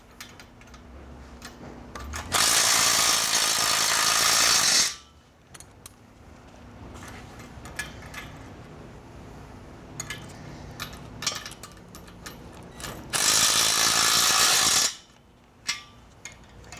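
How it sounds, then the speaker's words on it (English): An open-end wrench ratchets and clicks while tightening swing assembly bolts, two loud bursts of rapid mechanical clatter separated by quieter handling noises and scattered clicks. "Take your open end wrench up over underneath the top. Tighten that up."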